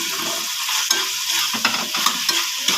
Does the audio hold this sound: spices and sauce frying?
yes